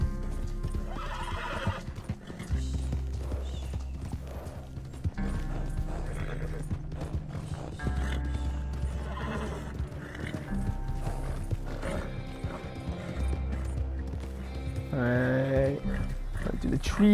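Horse hooves clip-clop steadily in Red Dead Redemption 2 Online, with repeated whinnies and neighs rising over the trotting rhythm, while a player talks throughout.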